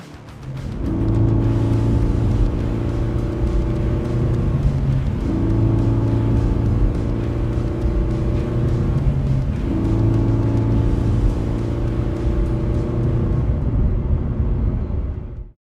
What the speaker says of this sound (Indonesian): Wah, ngebut banget tuh orang.